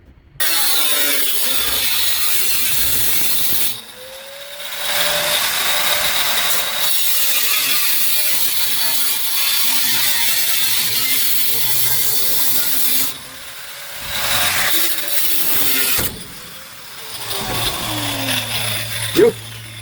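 Angle grinder cutting through the crossmember of a Kombi van in a workshop: loud, sustained, harsh grinding close by, broken by a few short pauses between cuts.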